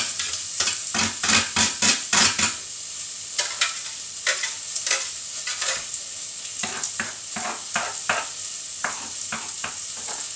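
Chicken pieces browning for a curry hiss and sizzle in a pan, broken by a quick series of rhythmic stirring scrapes, then steadier frying with scattered clinks.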